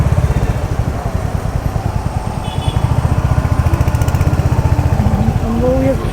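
A Suzuki Hayabusa motorcycle engine running nearby, a rapid steady low throb that pulses evenly throughout, fairly loud, with a voice speaking over it.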